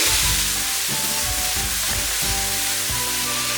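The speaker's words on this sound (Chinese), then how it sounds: "重新起锅烧油，下葱头、辣椒片，炒出香味后下牛肉、土豆，翻炒均匀" Beef and potatoes (fries) are stir-fried with shallots and chili flakes in hot oil in a wok, giving a loud, steady sizzle with scraping stirs and spatula knocks recurring through the whole stretch.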